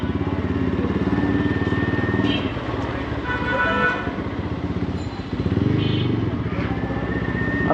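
A motorcycle rides through busy Dhaka traffic, its engine droning steadily up close, with horns tooting briefly now and then and road noise all around.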